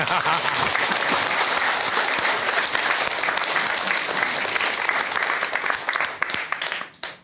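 A roomful of people at a lecture burst into loud, dense applause that holds steady for several seconds before fading near the end.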